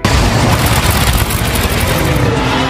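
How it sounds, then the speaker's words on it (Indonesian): Racers firing guns at each other mid-track in a Death Race film scene, a dense, loud barrage of rapid gunfire and booms mixed with roaring car engines, continuous throughout. "Mereka langsung saling tembak di tengah lintasan."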